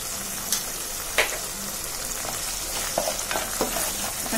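Crab masala with half a spoon of turmeric is stirred in a hot pan. A constant sizzle is punctuated by scattered scraping taps of the spoon against the pan.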